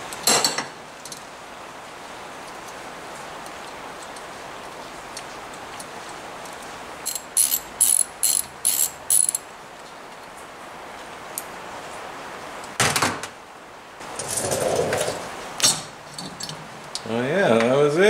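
Screws being worked out of the engine block of a 40-year-old Motobecane AV7 moped, with short bursts of metallic clinks and tool rattles against a quiet workshop background, spaced out over the clip.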